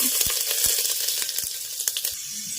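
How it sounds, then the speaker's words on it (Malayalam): Ginger and garlic frying in a pan for Kerala chicken curry, a loud, steady close-up sizzle with scattered sharp crackles and pops throughout and no talking. "നമുക്ക് ചേർക്കാൻ പോകുന്നത് നമ്മളുടെ ഇഞ്ചിയും വെളുത്തുള്ളിയും കൂടിയാണ് കേട്ടോ."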